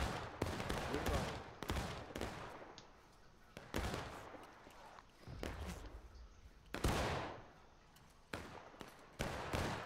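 Musket volleys in the Civil War game War of Rights ring out as a handful of sharp, broad cracks spaced several seconds apart, each trailing off into a rolling echo, fairly quiet and somewhat distant overall.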